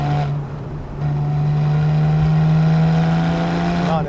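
A Porsche 911 Carrera S 991.1 driving through bends at about 60 mph, its engine holding a steady, loud drone that swells slightly after the first second and stays constant, heard from inside the car.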